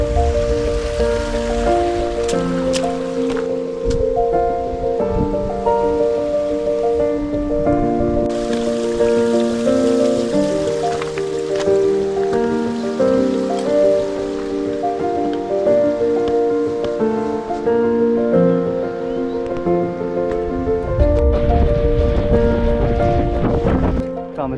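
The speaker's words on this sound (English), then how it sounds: "Found this little waterfall." A small mountain waterfall in the Lake District gives off a steady, close rushing and splashing of falling water that runs without a break throughout.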